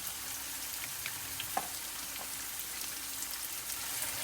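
Sliced green chillies and ginger fry in a pan for an amla pickle, giving a steady soft sizzle with faint crackles and a stir clink, quiet and close with no talk.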